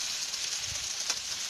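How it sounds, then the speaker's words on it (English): Beef suya sizzles on a barbecue grill, a steady broadband hiss of meat cooking over heat with a faint crackle near the end, heard alone at low level. "And the sizzle."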